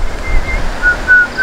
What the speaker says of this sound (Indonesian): Bersiul kau